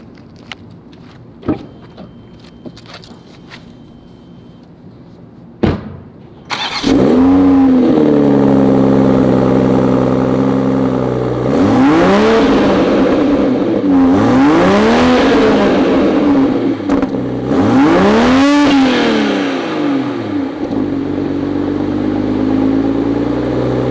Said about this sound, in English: So this is the factory exhaust.